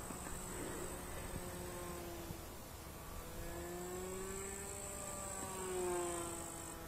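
Small engine of a radio-controlled Cessna 150 model airplane in flight, buzzing steadily and then revving higher with rising, wavering pitch, heard from a distance and fairly faint, with no talk.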